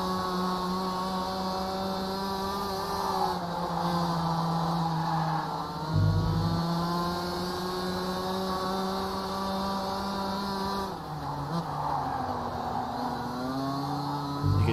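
Racing kart engine at Zwartkops circuit during a Masters race, a loud buzzing two-stroke note that rises and falls with throttle, dipping sharply twice as the driver brakes before pulling again.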